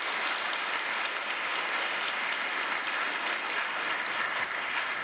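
Sustained applause at a Brookhaven town meeting for the Holtsville Ecology Site staff, a dense, steady crowd clapping that holds evenly throughout with no voices over it.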